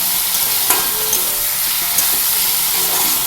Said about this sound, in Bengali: নাড়াচাড়া করতে হবে। আবার একটু ভাজতে হবে মশলাগুলো, সাথে যাতে করে মিশে ভেজে যায়